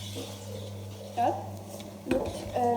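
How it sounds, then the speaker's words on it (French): A sugar mixture for vanilla panna cotta is stirred in a pot, a spoon clinking and scraping against the metal in three short bursts over a low, steady background hum. "vous venez toujours mélanger à peu près"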